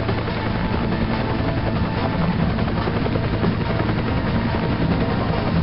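A helicopter in Resident Evil 5's Mercenaries mode drones with a loud, steady rotor and engine roar that holds constant from start to finish.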